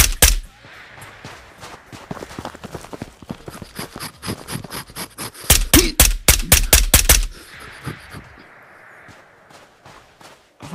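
Gunfire in the VR shooter Ghosts of Tabor comes as clusters of loud, sharp shots, building into a fast rapid-fire string near the middle before fading to quieter rustling and movement.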